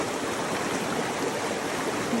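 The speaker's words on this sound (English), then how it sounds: "this water's flowing." Steady rushing creek water on the Colorado Trail, a broadband hiss with no breaks and no other sounds, close and constant throughout.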